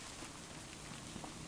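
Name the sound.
rain falling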